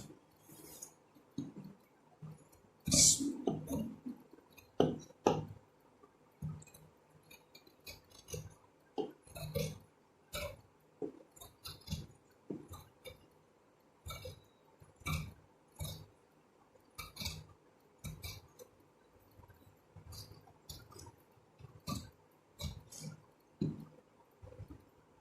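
Fabric collar pieces for a baby Peter Pan collar being cut with scissors, a series of short, fairly quiet snips and crisp clicks repeating in an irregular rhythm close by, with no talking.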